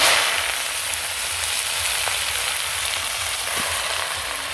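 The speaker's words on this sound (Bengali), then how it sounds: "তেল গরম হয়ে গেছে রসুনগুলো দিয়ে দিলাম" Garlic sizzles and crackles in hot oil in a pan, a dense, steady frying hiss heard close up and fairly loud throughout, with no voices.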